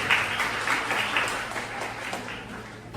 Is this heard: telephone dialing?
no